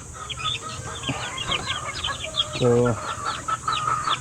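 Small three-week-old chicks at a poultry farm peep and cluck in a busy, overlapping chorus, with a brief louder call and someone speaking faintly underneath.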